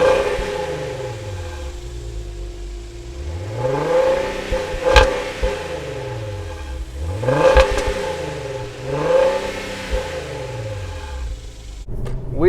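A 2018 Volkswagen Passat GT with a direct-injected 3.6-liter V6 revs up several times in a rising, falling rhythm, each rev building and fading, with a steady engine drone beneath and no talking.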